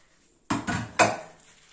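Boiled pasta with mushrooms and vegetables is set into a pan, making a few close clattering knocks against the metal, followed by a short fading ring.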